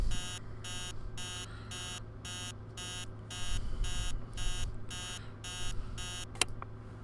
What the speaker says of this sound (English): that alarm is annoying